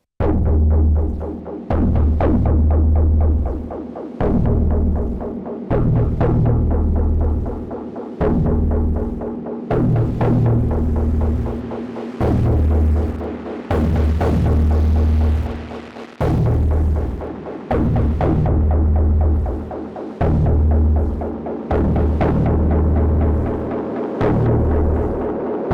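A deep synth bass line is run through the Minimal Audio Rift distortion plugin on its 8 Orbit preset, repeating loud gritty notes in a steady rhythmic pattern, close and alone.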